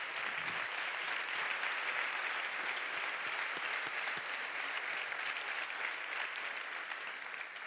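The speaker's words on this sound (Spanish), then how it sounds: "Chalo Berobat, un fuerte aplauso." Audience at a sports awards gala claps steadily for an honoree, a dense, even wash of applause from a large room, slightly distant and without speech.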